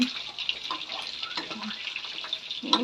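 Battered pork belly frying in hot oil, a steady close crackling sizzle with faint clinks and a soft voice in the background.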